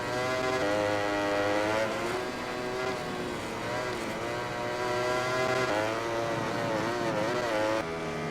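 Motorcycle engine from a lap in the MotoGP 20 video game, ridden as Maverick Viñales, a steady high-pitched whine rising and falling with gear changes, continuous and fairly loud throughout.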